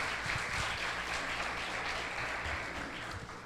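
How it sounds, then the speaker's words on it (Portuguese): Church congregation applauding during a Brazilian faith-and-miracles worship service, a steady, dense wash of clapping sustained throughout, moderately distant and fairly even in level. "Vamos aplaudir em nome de Jesus."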